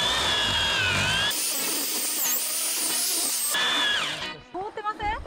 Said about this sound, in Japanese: チェーンソー行きましょう。